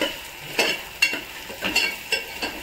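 Stuffed brinjals for gutti vankaya curry frying in oil in a pan, a steady soft sizzle broken by several sharp stirring scrapes, close and fairly loud, with no voices.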